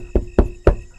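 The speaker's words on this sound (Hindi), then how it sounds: "और तभी मुझे फिर से खटखटाहट सुनाई दी" Three evenly spaced knocks on a door, sharp and fairly close, spread over about a second in a quiet room with no one talking.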